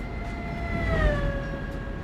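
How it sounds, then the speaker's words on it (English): A train passing in Euro Truck Simulator 2, a sustained tonal horn-like drone with sliding pitch over steady rumbling road noise, swelling slightly toward the middle and holding loud throughout. "That was a train that made that sound."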